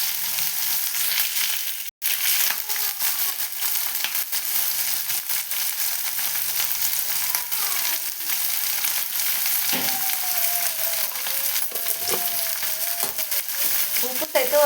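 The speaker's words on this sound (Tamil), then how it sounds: "ஆனியனுக்கு தேவையான அளவுக்கு உப்பு சேர்த்து வதக்கிக்கலாங்க." Onions with salt and dried red chillies sautéing in a pan for aval kichadi, a loud, dense, continuous sizzle with faint scraping, briefly cut out for an instant early on.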